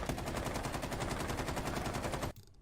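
Rapid automatic gunshots in the tactical shooter Rainbow Six Siege crackle in a fast steady stream for about two seconds, then cut off abruptly into near silence, fairly quiet overall.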